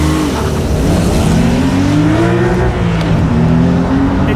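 Porsche 911 Carrera T launching hard with the clutch dumped, its engine note climbing steadily through the revs, loud and close throughout with a continuous roar and no talk.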